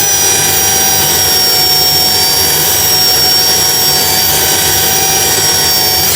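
Wood lathe spinning turned wood while 600 grit sandpaper works the surface, a loud steady whirring hum with high whining tones, continuous throughout.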